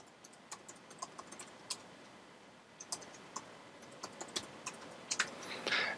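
Light, faint keystrokes on a computer keyboard as a username is entered, irregular clicks in short bursts with a brief pause midway, close and quiet against room hiss.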